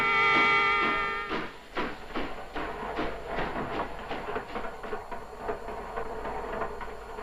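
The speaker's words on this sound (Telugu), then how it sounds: "రైలు వెళుతున్న శబ్దం వినిపిస్తోంది" A train passing near a house in a Telugu film scene, heard as a steady rolling rumble with rhythmic clatter and a brief whistle-like tone at the start, fairly loud throughout with no talk.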